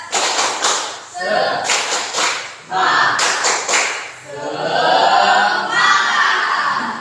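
A classroom group performs rhythmic 'tepuk semangat' clapping, bursts of patterned claps in quick sets broken by short pauses, loud and close, with shouted voices and chanting mixed in.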